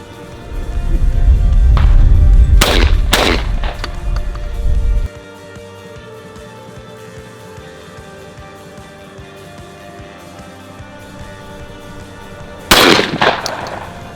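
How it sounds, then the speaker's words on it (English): Shotgun blasts at clay pigeons during trap shooting: a loud rumbling stretch, then two sharp reports close together and one more after a long quiet gap, all outdoors with no talk. "I like trap shooting"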